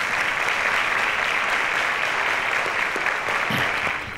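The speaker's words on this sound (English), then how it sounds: "A round of applause to them, please." Studio audience applause on a school quiz show, a dense burst of many people clapping close and loud, tapering off at the end.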